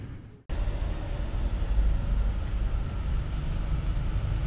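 A train rumbles past at Wambool in the Central West of New South Wales, a loud, steady roar of wheels and wagons that starts abruptly and holds close and constant.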